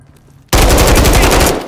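Loud automatic gunfire in Modern Warfare 3 Warzone on PS5 bursts in suddenly after a quiet moment and rattles on as a rapid, continuous volley before easing slightly at the end.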